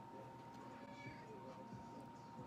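A pet cat meows faintly in a home setting during a New Year's Eve makeup session, small cries mixed into steady room noise with a person speaking nearby.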